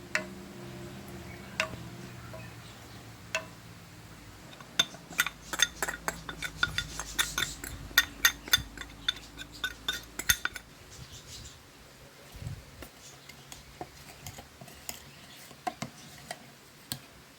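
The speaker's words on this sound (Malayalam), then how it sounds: "തരികളില്ലാതെ നമ്മൾ നമ്മൾ ഇളക്കണം" A spoon stirs cornflour into coconut milk in a bowl for a coconut pudding, giving faint, irregular metallic clinks and taps that come in quicker bursts midway and thin out toward the end, with no talking.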